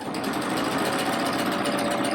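Sewing machine running steadily while stitching a rag quilt, a fast continuous whirring hum with a faint high whine, close and alone for the whole stretch.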